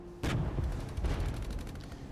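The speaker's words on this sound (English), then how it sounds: "Units are already suppressed from incoming enemy artillery" Artillery fire in a Cold War real-time strategy game, a sharp blast near the start followed by a dense, continuous rumble of shelling and gunfire with repeated impacts.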